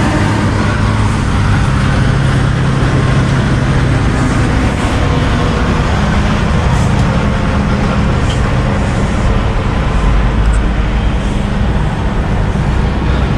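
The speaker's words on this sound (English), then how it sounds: "Wait for this truck to go by." A truck drives past on a roadside near a damaged RV, a loud, continuous rumble of engine and tire noise that fills the whole stretch with a heavy low-end roar.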